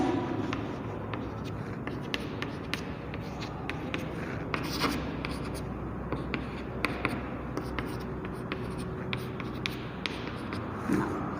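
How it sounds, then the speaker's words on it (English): A pen scratches steadily across paper, writing values out in short strokes and taps, close and clear with faint room noise and no talk. "So writing the min term values."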